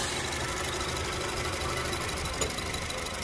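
A 2016 Honda HR-V E automatic idles with a steady, even mid-low engine hum, close and constant throughout with no talk.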